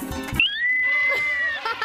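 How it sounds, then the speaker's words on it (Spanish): A horse whinnies once, a loud rising then long sustained neigh that fades out, preceded by a brief burst of other sound. "¿Cómo? Caballo."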